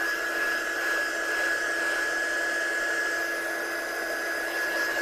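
A handheld heat tool blowing steadily while drying a craft decal, a close, constant whirring hum with a thin high whine that holds level throughout, no talking.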